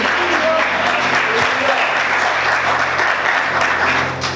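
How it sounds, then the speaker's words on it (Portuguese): A church congregation applauds loudly and continuously throughout, a dense sustained wash of many hands clapping with no break. "Aplaude o Senhor mais forte, amém?"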